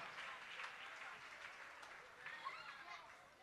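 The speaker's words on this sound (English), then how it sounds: "Let's get a round of applause for these tremendous performers." A concert audience applauds performers, fairly faint and distant clapping with crowd murmur mixed in.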